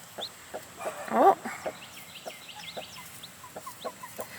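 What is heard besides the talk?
hen clucking near her eggs and chicks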